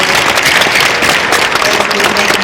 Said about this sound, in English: Can we have a round of applause for the entire panel that we just heard from this morning?